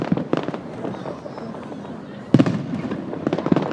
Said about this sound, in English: Those bangs filling the air right across Derry, and I'm sure you can hear those bangs right across the northwest as well.